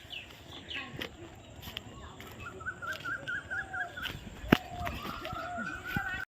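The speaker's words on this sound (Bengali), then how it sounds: "পাখি কত সুন্দর ডাকছে বলো খুব সুন্দর" Birds call outdoors in an open field in the afternoon, repeated chirping phrases rising and falling over faint rustling and a brief sharp knock near the end.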